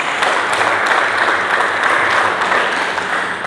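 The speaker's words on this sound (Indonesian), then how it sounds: "Berikan tepuk tangan yang meriah bagi Yesus." Dense, sustained applause from a church congregation fills the room steadily and loudly, following a call during a sermon to clap for Jesus.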